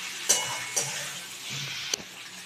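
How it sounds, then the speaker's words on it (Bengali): Mutton kosha sizzling hard in a pan as water goes in, a loud steady hiss with a few sharp spatula clanks against the metal. "এবার আমি এর মধ্যে জল দিয়ে দেবো"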